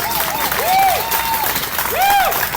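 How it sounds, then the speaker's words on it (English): Applause and cheering from a crowd at a summer Democratic picnic honoring a state senator, clapping mixed with whoops and rising voices, fairly loud and lively, with a few prominent shouts standing out. "we should all give him a round of applause"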